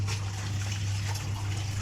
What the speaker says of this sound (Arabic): حطينا ميه كده يا حبايبي على الخلطه